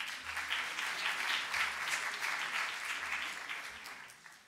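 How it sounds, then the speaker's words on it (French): Conference audience at a regional addiction medicine assembly applauding, a dense, fairly soft wash of clapping that stays steady and tapers slightly toward the end. "On peut applaudir Véronique."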